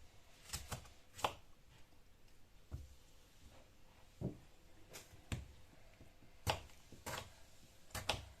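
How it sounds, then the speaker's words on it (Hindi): Knife chopping tomatoes on a cutting board for a bhindi (okra) dish: sharp, irregular chops, some in quick pairs, heard close and alone over quiet room noise. "जी तो अब टमाटर काट लें।"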